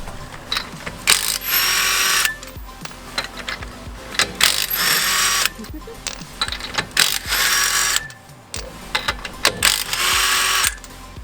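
A car handbrake in a Nissan S15 or S13 is pulled repeatedly, each pull a close, loud burst of ratcheting clicks lasting about a second, separated by short pauses and lighter mechanical clatter.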